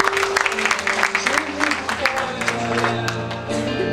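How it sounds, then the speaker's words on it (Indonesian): A church congregation claps together during an Indonesian worship service, a dense patter of hands over steady sustained keyboard or organ tones, with a voice briefly audible in the room. "Kita perlu berikan tepuk tangan sekali lagi"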